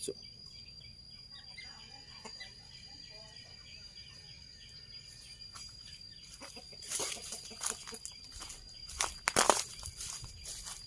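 Chickens cluck around a newly built backyard coop beside a garden near rice fields, with footsteps crunching closer in the latter half amid faint insect chirps and soft outdoor ambience.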